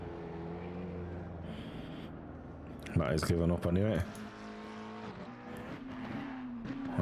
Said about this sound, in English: Literally 4 cars out there for the last few minutes.